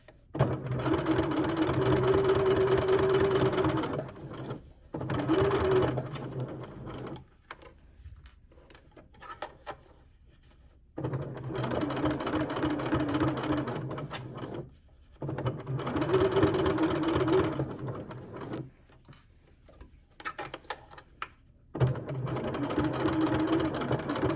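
Sewing machine stitching a fabric wristlet, running in steady bursts of several seconds separated by short pauses, close and fairly loud with no talk.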